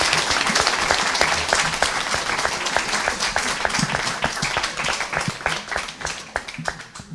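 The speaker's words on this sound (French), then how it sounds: "Je vous propose d'en rester là et d'applaudir." An audience applauds at the close of a lecture on democracy, with dense, steady clapping from a full room that thins out slightly toward the end.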